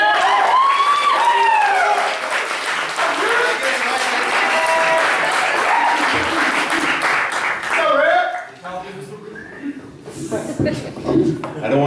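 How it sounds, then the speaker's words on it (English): Audience at an open-mic poetry night gives a poet a big round of applause, sustained clapping with cheers and whoops over roughly eight seconds, then fading into scattered claps and chatter. "Let's all give a big round of applause for Rippy Moore."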